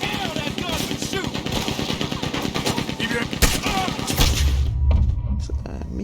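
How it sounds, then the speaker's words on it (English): A Gatling gun in Red Dead Redemption II spits out a fast, continuous stream of loud shots, ending in heavy thuds and crashes as the firing winds down. Voices shout through the barrage. "He's going for the Gatling! Look out! He's firing!"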